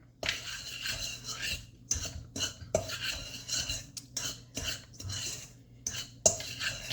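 Flour and baking powder for lemon raspberry bars are mixed in a bowl with a utensil, producing repeated scraping, clinking bursts separated by short pauses, close and distinct.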